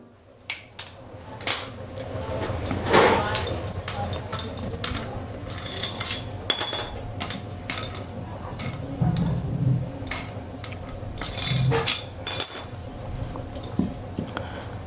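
A 1 kg wax candle being worked free of its mould, with scattered sharp clicks, taps and clinks of the mould parts, some scraping, and a few duller knocks near and moderately loud, no talking.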